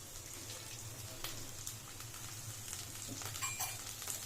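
Coconut, coriander and mint frying in a pan for a palak vegetable pulao, a soft, steady sizzle with faint crackles and a few light stirring scrapes, quiet and close, with no voices.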